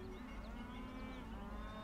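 Cattle lowing in a South Park cartoon episode, a soft sustained moo sitting low and faint in the mix under a steady background hum, with no talk.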